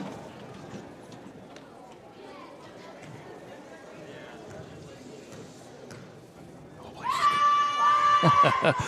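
Basketball crowd in a high school gym erupts into loud screaming and cheering near the end after a stretch of quieter murmuring and commentary talk.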